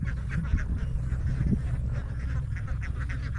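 Ducks quacking in a rice field, a steady run of repeated nasal quacks from several birds close by over a constant low outdoor rumble.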